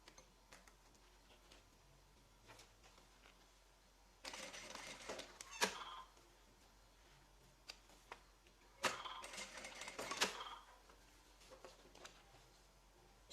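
A sewing machine stitches bias binding in two short runs of fast, rattling ticks separated by quieter pauses with small clicks, faint and close.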